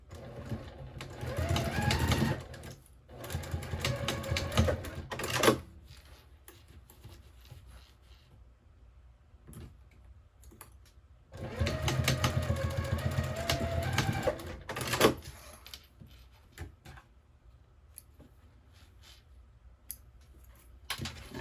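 Sewing machine stitching a small fabric triangle pouch with a quarter-inch seam, running in two bursts of steady whirring, each a few seconds long, separated by a quiet pause.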